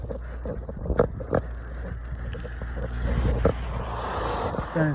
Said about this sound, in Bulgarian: колко яко духа вятър